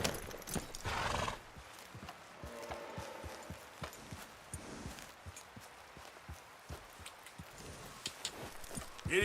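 A horse in Red Dead Redemption 2 whinnies loudly and then gallops away, its hoofbeats settling into a fast, even rhythm near the listener.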